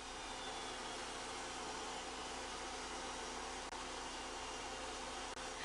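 A Kirby G5 vacuum cleaner runs with its orbital massager attachment, giving a steady, loud, unbroken motor drone with a broad airy hiss that holds level throughout.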